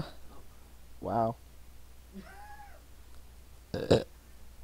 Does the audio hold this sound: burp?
yes